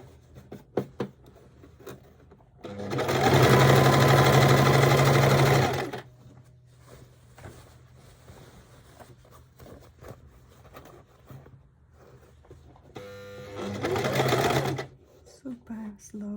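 A sewing machine stitches a large tote bag in two bursts, a loud steady whir of about three seconds and a shorter one later, with quiet handling noises and a little faint talk between them.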